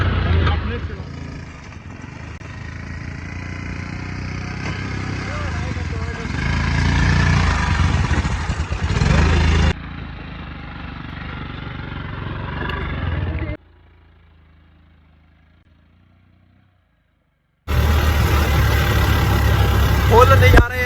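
A scooter engine running on snow, its low rumble rising and falling with a few short drops out, under excited voices of people talking nearby.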